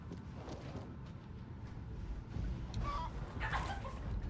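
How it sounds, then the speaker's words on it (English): A chicken clucks in the video game Zanki Zero, a few short soft clucks rising near the end over a low ambient rumble, fairly faint and without speech. "Great, the fucking chicken is here."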